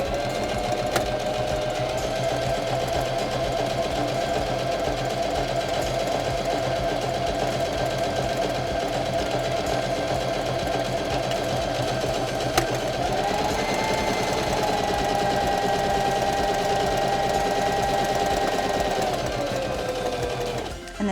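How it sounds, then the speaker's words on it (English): A SINGER Denim sewing machine stitching a one-step buttonhole, a steady rapid mechanical whirring and needle clatter running continuously, with a slight shift in pitch partway through before it stops. "And now we can step on the foot control and sew a buttonhole."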